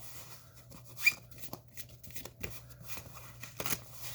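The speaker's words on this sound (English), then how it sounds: "we need to shuffle in the obligation card now" Cards for the Marvel Champions card game being shuffled by hand, with soft irregular riffles and snaps across several seconds, quiet and close, with no talking.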